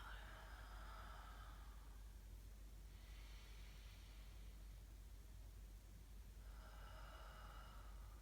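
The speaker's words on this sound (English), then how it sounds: "Deep breath out." Slow, deep breathing during a yoga session: a soft, airy exhale followed later by another breath, faint and close over a steady low background hiss, with no talking.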